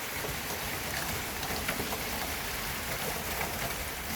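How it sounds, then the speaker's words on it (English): Rain falling outdoors in a steady dense patter, a constant close hiss of drops with no voices over it. "Got rain right now."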